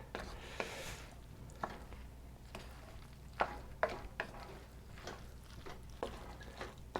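A spoon works BBQ sauce through cooked pasta for pork mac and cheese, making quiet soft stirring and squishing with periodic scrapes and taps against the pot, close by and alone.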